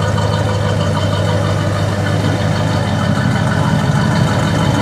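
A 1970 Oldsmobile Cutlass Supreme convertible's Rocket 350 V8 idles steadily up close, a constant low rumble with even mechanical hum and no talking.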